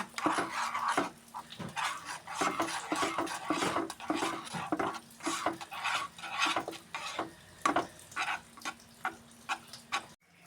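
Spoon working rice flour into boiling water in a pot, mixing it into a dough: repeated close scraping and rubbing strokes in an uneven rhythm, fairly loud, with a low hum underneath and no talk.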